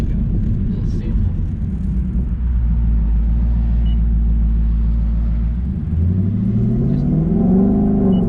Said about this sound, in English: This active exhaust, anybody interested in it, really works.